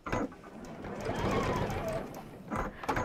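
A domestic sewing machine runs a short back stitch while stitching a fabric napkin holder, its whirring motor close and steady, starting and stopping in short bursts.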